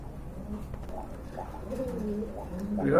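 Giribaz and racer pigeons coo nearby in a series of low, rising and falling throaty calls, growing a little louder toward the end, with a faint chirp mixed in.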